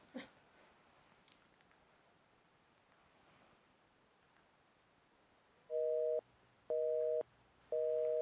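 A busy signal from a phone call that fails to connect plays three short repeated beeps toward the end, clear and steady, after several seconds of faint background rustle.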